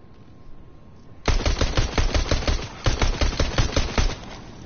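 Rapid automatic gunfire in a video game bursts loudly and close, starting abruptly and firing in two quick rhythmic volleys with a brief pause between them.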